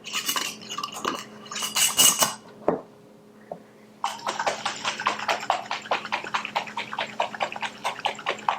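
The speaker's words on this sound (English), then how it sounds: "Shake it up, and we have a great salad dressing" A mason jar of olive-oil vinaigrette is shaken hard in quick bursts, then steadily: close rhythmic sloshing with glassy rattles, about twenty even shakes after a brief pause.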